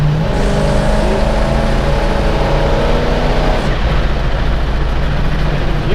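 A pro street car's engine hums steadily at around cruising speed, a loud, continuous drone close up with no talking over it.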